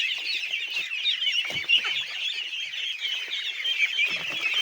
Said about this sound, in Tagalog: ang ingay na po nila. Kaya pinakailangan pa rin na magpakain na ang ating alagang itik.